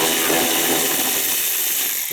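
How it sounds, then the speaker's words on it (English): An old Husky cordless impact wrench buzzes and whirs steadily close by, backing out half-inch bolts from the blower motor of a 2016 Ford E350, one continuous loud mechanical run with no talking. "there's the wrench I decided to use. It's an old Husky wireless."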